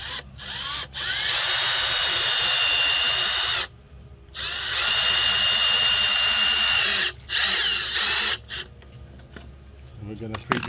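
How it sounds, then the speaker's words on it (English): Power drill pre-drilling screw holes in wood for a kayak storage rack, several loud whirring bursts of a few seconds each separated by brief pauses, close by. "We're going to pre-drill on the bottom"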